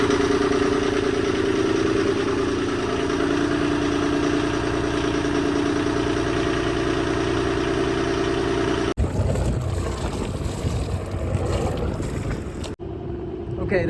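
A boat's marine diesel engine idles steadily after its fuel injectors were bled, a loud, continuous mid-low drone that abruptly shifts partway through to a rougher, quieter rumble. A voice talks over it.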